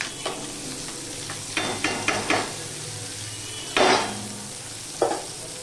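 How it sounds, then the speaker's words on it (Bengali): Onion frying in a pan for a Bengali rui fish jhol with tora root, a low sizzle broken by a few sharp stirring scrapes and clatters of a utensil, with no voices. "পেঁয়াজটাকেও আমি একটুখানি ভেজে নেব"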